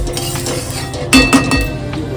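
Sesame seeds dry-roasting in a pan over low gas while being stirred: a soft rustling sizzle broken by a couple of louder clinks and scrapes of the spoon against the pan.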